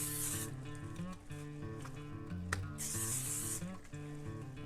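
Canola oil sprayed onto ribeye steaks, two distinct hissing bursts from an aerosol can, one at the start and a longer one midway, close and crisp over a background of music.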